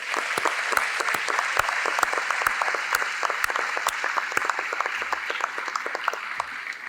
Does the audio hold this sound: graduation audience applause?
yes